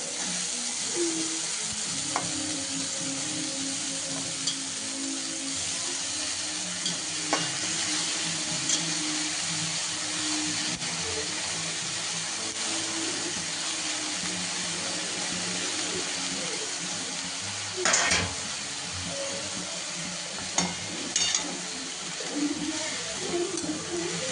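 Dill greens and soaked lentils sizzle in a pan, a steady frying hiss lasting throughout with occasional clinks and stirring scrapes, and a voice speaks now and then over the cooking.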